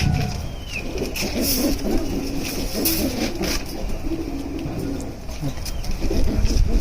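Old-breed black-necked pigeons coo in low, repeated throaty phrases through the whole stretch, fairly close and steady against a busy background hum, with a few faint chirps.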